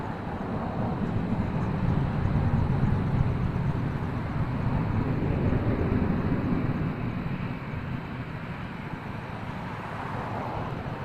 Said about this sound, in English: A few triples are making their way down taxiway Alpha right now for departure